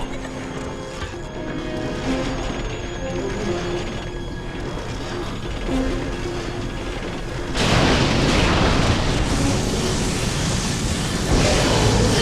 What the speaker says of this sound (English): Ion cannons armed. Firing!